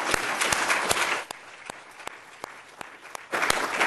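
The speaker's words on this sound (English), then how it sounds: "If we could give these folks a round of applause," Applause rings out at an education summit gathering, brisk clapping at first that thins to a few scattered sharp claps before swelling again near the end.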